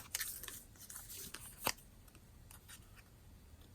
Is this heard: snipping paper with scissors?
yes